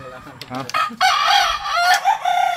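A young gamecock stag crows close and loud, one short clear cock-a-doodle-doo with a few clucking notes around it, alone and without talk.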